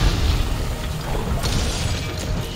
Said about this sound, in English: Everything is exploding.